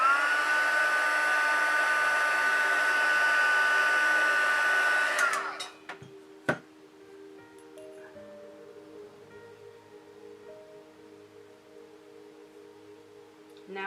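A hair dryer heat-sets a crease in paper with a steady close whir for about five seconds, then winds down and clicks off, leaving quiet room sound with a faint hum.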